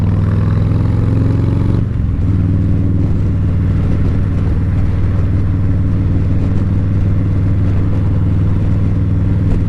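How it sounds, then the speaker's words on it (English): Road traffic passing on a morning road, heard from a Harley-Davidson, a loud steady engine drone with a shift in pitch early on, then a continuous hum and rumble of vehicles. "a lot of traffic out here today"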